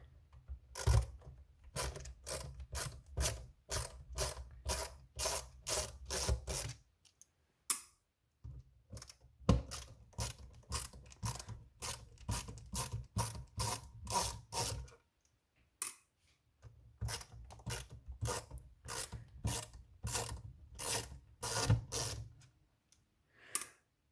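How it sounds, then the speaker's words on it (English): Screws being undone on a Fellow Ode Gen 1 coffee grinder, heard as dense, close bursts of rapid ratcheting clicks separated by short pauses, with no talking. "and just start undoing screws"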